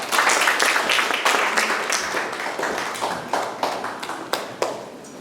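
Scattered clapping greets a speaker coming forward at a Korean Christian gathering, irregular claps from a modest crowd that thin out toward the end.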